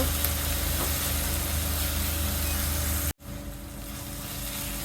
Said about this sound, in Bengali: এখন এগুলোকে ভালোভাবে কষিয়ে নেব যতক্ষণ পর্যন্ত আদা রসুন আর পেঁয়াজের কাঁচা গন্ধটা চলে না যায়